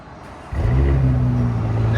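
A straight-piped 2023 Porsche Cayenne S with a 2.9L twin-turbo V6 barks to life and settles into a loud, rumbling rev and idle, close by, with steady low engine drone and no talking.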